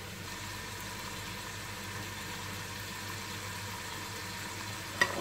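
Meat frying in a tajine produces a low, constant sizzle throughout with a faint clink near the end and no voices.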